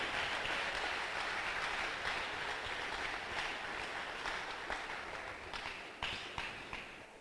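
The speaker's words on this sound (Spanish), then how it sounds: "vamos a regalarle un aplauso a Dios en esta hora" Congregation applauding in church, a dense, sustained wash of clapping that stays steady and fairly loud, then thins toward the end with a few louder individual claps standing out.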